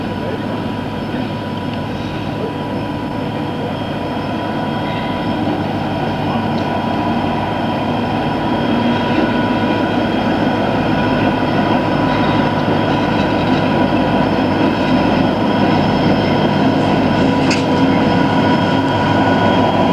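Freight train arriving at Charleville station, a loud continuous rumble and engine drone that holds steady and slowly builds over twenty seconds.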